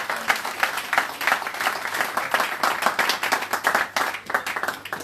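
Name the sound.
audience applause at a town hall meeting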